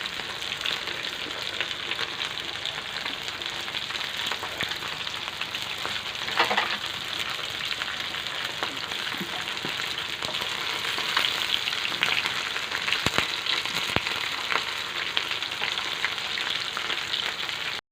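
Sardines sizzling and crackling in hot oil, a steady dense frying hiss with occasional pops, heard close up with no voices.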